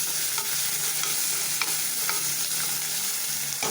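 Ginger paste stirred in a hot frying pan, a steady loud sizzle with occasional scraping strokes of the spoon, close and continuous with no voices.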